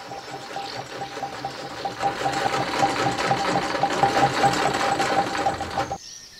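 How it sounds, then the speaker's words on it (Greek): A sewing machine runs steadily at close range with a dense, even mechanical whir and rapid stitching rhythm for about six seconds, then cuts off abruptly into near silence. "Η ραπτομηχανή, σαν το μολύβι της μνήμης, συνεχίζει και γράφει στους αιώνες."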